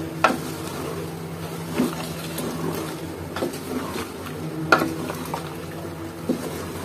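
Raw mango pickle being mixed in a bowl, with soft wet stirring and occasional clinks and knocks of a spoon against the container, recurring at irregular intervals over a low steady background.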